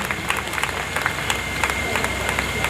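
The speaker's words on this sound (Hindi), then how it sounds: "सबके लिए एक बार जोरदार तालियां बजा दें प्लीज।" Applause from an audience at a senior citizens' council Holi festival celebration, steady, dense clapping at an even level throughout, with a faint crowd murmur underneath.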